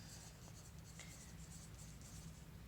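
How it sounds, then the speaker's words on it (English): A pencil writes a name lightly on the back of a sheet of paper, a faint, soft scratching under steady room hiss. "First step is to write my name on my paper on the back. I'm going to write it pretty lightly."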